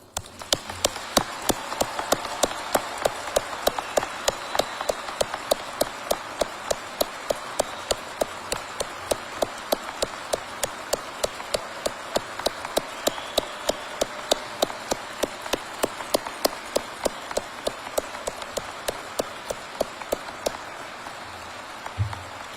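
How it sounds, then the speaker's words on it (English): An audience at a Test Pilot School graduation ceremony applauds continuously, a dense, even wash of many hands clapping close and steady from start to finish with no talk over it. "Please join me in one final round of applause for our newest group of test leaders."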